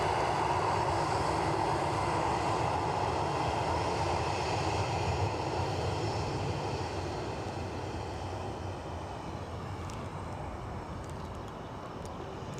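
A JetBlue airliner arriving at Edinburgh airport on the inaugural New York route produces a sustained broadband jet roar that slowly fades toward the end, with no voices over it.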